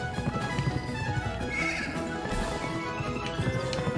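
Horse whinnies and neighs from the video game Pumpkin Jack sound during a chase, mixed with rhythmic clatter and layered game sound effects, fairly loud and with no talking.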